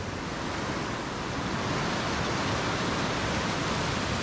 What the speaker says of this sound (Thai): นี่คือแรงน้ำสดที่ปล่อยมาจากลำตะคองนะครับ